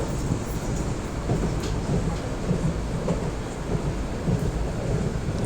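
A passenger train travelling at night, heard from inside as a steady, dense low rumble with continuous rolling noise and faint rattles throughout, no talk.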